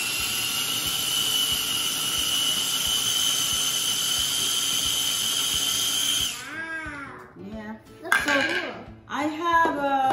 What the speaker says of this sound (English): Now I'm gonna grind the spinach.